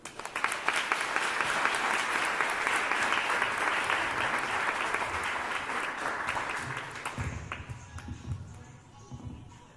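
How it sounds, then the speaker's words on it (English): Gala audience giving a warm round of applause as a guest comes up to speak, dense clapping for about seven seconds that dies away into scattered claps and a few low sounds. "I hope you can help me receive her with a warm round of applause."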